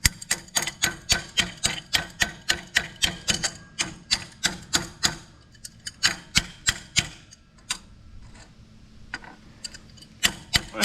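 Hammer striking metal in rapid, evenly spaced blows while adjusting an Oliver No. 8A plow, a regular sharp tapping that briefly slows and thins out before resuming at pace.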